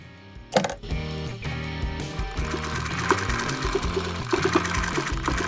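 Sewing machine stitching fabric for a small rice-filled ball, a loud steady mechanical whirr with rhythmic needle pulses, starting after a brief pause and running continuously with short stops and restarts.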